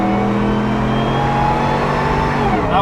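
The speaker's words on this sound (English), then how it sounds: "That Whipple and that Roush exhaust, I love it." A first-generation Ford Raptor fitted with a Whipple supercharger and Roush exhaust revs steadily, a loud sustained engine drone with supercharger whine rising in pitch before easing off at the end.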